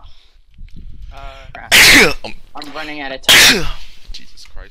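Two loud, sharp sneezes burst out about a second and a half apart, each standing well above ongoing talk from a man during a Minecraft multiplayer session while the Ender Dragon fight goes on.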